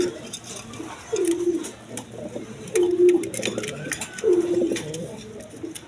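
Large pigeons at a farm selling birds with eggs and chicks give three clear, evenly spaced bursts of throaty cooing, fairly loud and close, with quieter chatter of other birds between them.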